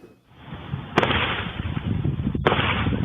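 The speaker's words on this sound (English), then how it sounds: "Gunshots ring out just moments after the victim is seen walking by the camera." Two sharp gunshots ring out in news footage of a fatal shooting near a police department, loud and cracking about a second and a half apart over a rough noisy background.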